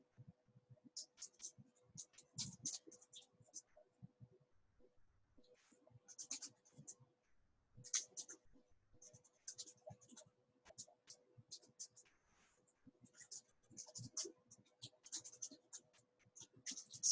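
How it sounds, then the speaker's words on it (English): Soft, irregular clicking of a computer keyboard as text is typed, with light clustered key taps continuing through the stretch over a faint steady hum and quiet background. "I can't type and talk at the same time"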